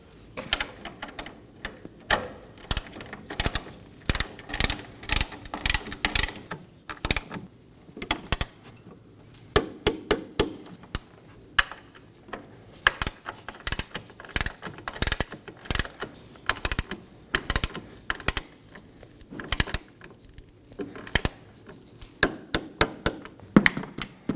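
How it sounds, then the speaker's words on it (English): A ratcheting torque wrench tightens strut bolts on a 2015-2023 Nissan Maxima, giving repeated bursts of sharp metallic clicks and clanks in an irregular rhythm, close and fairly quiet. "we're going to go ahead and torque these down to 26 foot-pounds"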